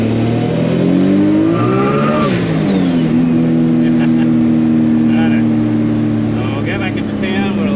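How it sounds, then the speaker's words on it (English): A car fitted with a Precision 7675 dual ball bearing turbo pulls hard in second gear. The loud, close engine note climbs steeply with a high rising turbo whistle, then settles into a steady roaring drone. "Little second gear action."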